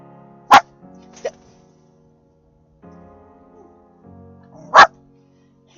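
A lone dog barks sharply a few separate times, with short loud bursts spaced out among quiet stretches and faint background murmur, as though it has just woken from sleep.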